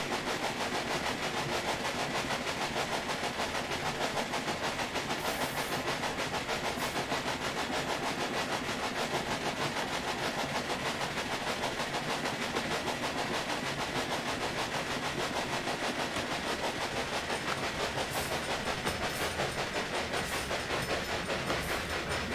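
A train rolls along rails in the Railway Empire video game, a steady continuous rumble with rhythmic clickety-clack of wheels over track joints, loud and unbroken throughout with no voices.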